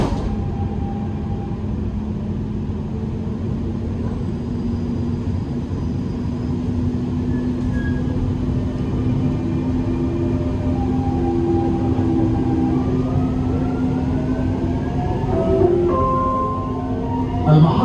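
A Dubai Metro Green Line train near Creek station hums steadily as it pulls away after its doors close, with a low motor drone and faint rising whine building gradually, no speech.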